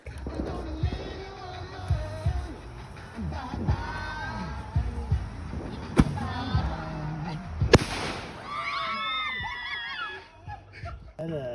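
A Fourth of July consumer firework malfunctions and blows apart its launch tube, giving sharp crackling bursts and two loud bangs amid an excited crowd that shouts, laughs and talks throughout.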